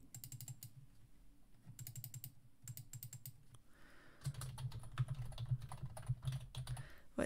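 Fingers typing text on a computer keyboard in short quiet bursts of rapid key clicks separated by pauses, then a longer, busier stretch of keystrokes, close up with no voices.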